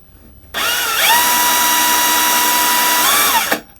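A Bosch GSR 18V-55 cordless drill whirs loudly and steadily for about three seconds, its pitch dipping briefly near the start and end, then cutting off abruptly.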